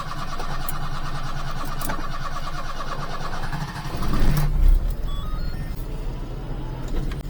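A Micro Van SE1 E20 engine cranks and fires at close range, settling into a steady idle with a brief surge of revving midway, alone without voices.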